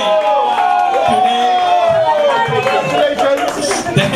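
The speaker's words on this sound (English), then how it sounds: "And, big round of applause." An indoor audience breaks into loud, sustained applause mixed with cheering and scattered voices, the clapping steady throughout.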